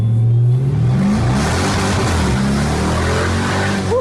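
Dodge Charger police car with extreme mods, its engine revving hard and loud up close, a deep roar swelling and then holding as the throttle is ripped.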